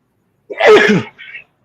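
A single close, loud human sneeze with a sharp burst and short trailing exhale, followed by a brief softer sound, heard alone with no talking.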